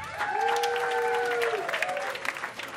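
Comedy club audience clapping hands on cue, a broad patter of applause with a few whoops and cheers rising above it, while a voice carries a sustained tone across the first half.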